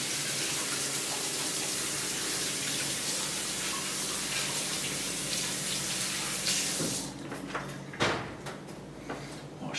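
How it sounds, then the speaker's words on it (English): Tap water runs steadily in a broad continuous hiss while hands are washed, then cuts off, leaving a few knocks and clatters nearby. "Wash the hands a little bit."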